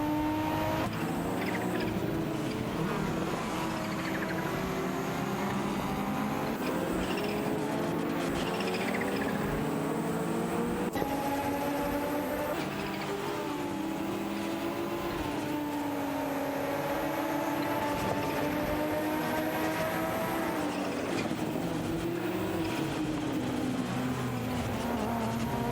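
Racing video game cars, including a Nissan Skyline GTR R32, roar continuously as several engines rise and fall in pitch together, dense and loud throughout.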